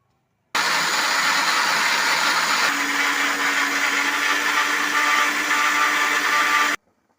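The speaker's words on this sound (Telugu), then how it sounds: "నానబెట్టిన శనగపప్పుని నీళ్లు వడగట్టేసుకుని మిక్సీ జార్లో తీసుకుని మెత్తటి పేస్ట్లా చేసుకుంటానండి దీన్ని" A mixer grinder runs continuously, grinding soaked chana dal into a smooth paste: a loud, steady, close whirring motor drone that starts abruptly, holds for about six seconds, then cuts off, with no talking.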